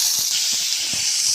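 Onions frying in hot oil with popped mustard seeds, a steady close hiss and sizzle throughout with faint crackles, no voices.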